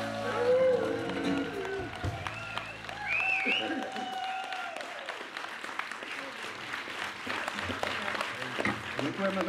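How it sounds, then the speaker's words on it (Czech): Audience applause at the close of a song during a springtime concert set, a spread of clapping hands filling the room after the music cuts off, steady and fairly close, with scattered voices underneath. "Děkujeme za aplaus."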